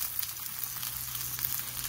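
Hasselback zucchini fresh off a barbecue grill after about 25 minutes of cooking, giving a soft, steady sizzle and bubbling hiss that runs unbroken and close without any talk.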